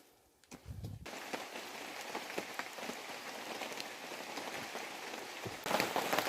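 Rain falls on a mountain trail on Gunung Slamet, a steady patter of drops hitting surfaces at close range that swells slightly louder near the end, with no talking.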